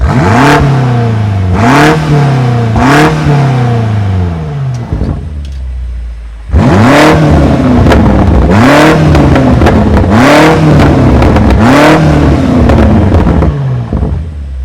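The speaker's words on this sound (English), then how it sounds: "before I let you listen to the exhaust sound" 2020 BMW M8 Competition exhaust revved hard in a series of loud, sharp blips, each climbing and falling with crackling pops, a short lull midway, then several more rapid revs close to the car.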